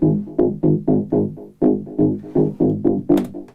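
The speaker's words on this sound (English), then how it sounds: "So that's the character on top of the main bass sound." A synth character sound layered over the main bass plays a bouncy, plucky pattern of short repeated notes, close and loud, pausing briefly midway before the phrase resumes.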